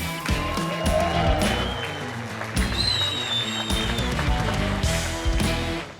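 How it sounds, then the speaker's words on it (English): A crowd at the Goodwood Festival of Speed gives a big round of applause for Richard and Kyle Petty, dense clapping that swells and carries on steadily with a few cheers mixed in. "Let's have a huge round of applause for the King, Richard Petty, and his son"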